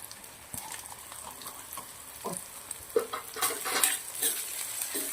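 Finely chopped potato drops into hot oil with ground ginger, chili and garlic for a Kathiyawadi dish, setting off a steady sizzle with scraping stirs and a few spoon clinks on the pan.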